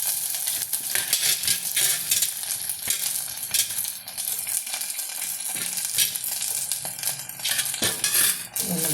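Chopped okra, ginger and green chillies sizzle and sauté in hot oil, with a steady bright frying hiss and occasional stirring clatters from a utensil in the pan, close up and without talk.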